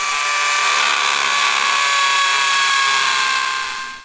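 Power drill running with hammer action off while boring into a house wall to mount a Sky mini dish, giving a loud steady high whine that holds for about four seconds before winding down.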